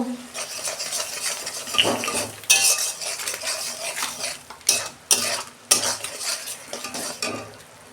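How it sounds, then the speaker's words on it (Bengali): Masala with tomato and turmeric sizzling in a pan while a metal spoon stirs and scrapes, with several sharp clinks against the pan over a continuous frying hiss. "দু মিনিট আমি মশলাটা কষতে নেব"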